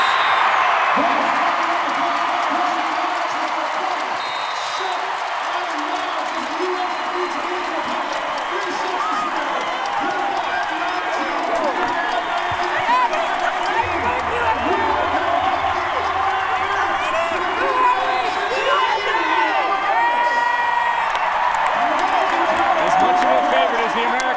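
Crowd at a women's Olympic volleyball qualifier, USA against the Dominican Republic, cheering, whooping and applauding steadily throughout, a dense roar of many voices with a commentator talking over it.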